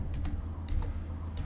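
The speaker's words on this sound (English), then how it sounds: "Just type this command and hit enter on your computer keyboard" Computer keyboard typing while entering a command on a Windows PC, a few quick light key clicks spread across a short moment over a steady low room hum.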